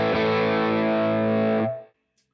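Electric guitar through a NUX MG-101 multi-effects unit on its Morning Drive distortion, one sustained chord ringing thick and buzzy for over a second before being cut off, then a short faint tick in the silence.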